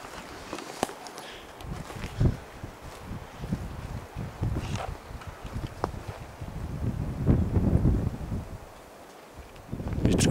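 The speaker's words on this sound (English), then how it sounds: "You can hear the wind." Wind blowing through woods on a cold day, a steady broadband rush with gusts and rustling, plus occasional nearby footsteps and handling bumps on the ground.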